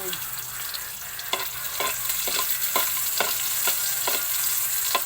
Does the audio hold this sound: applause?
no